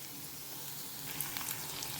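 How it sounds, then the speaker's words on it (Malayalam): Small onions and curry leaves fry in a pan for a fish curry, giving a steady, soft hiss of sizzling oil with faint crackles. No one speaks. "ഇതെല്ലാം കൂടെ നമുക്ക് ഒരു 2 മിനിറ്റ്സ് നല്ലോണം ഒന്ന് ഫ്രൈ ചെയ്ത് എടുക്കാം"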